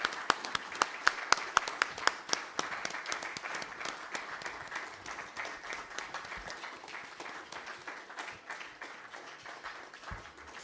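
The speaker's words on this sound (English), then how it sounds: "a round of applause for him." An audience at a Labour Party UK inauguration ceremony applauds, with sharp individual claps at first blending into steady, fairly distant applause that gradually softens.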